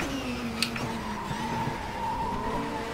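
Touring race car in Race 07 at Valencia, its back end sliding out, a steady engine drone with a faint tire squeal running through, moderately loud and without voices.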